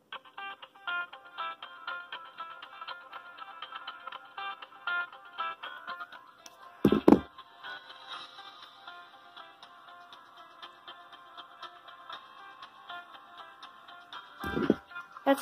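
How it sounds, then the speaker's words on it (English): A flip phone plays a tinny, bright electronic ringtone melody with rapid repeating notes, interrupted by two loud handling thumps. "I've actually never tried the ringtone on this thing"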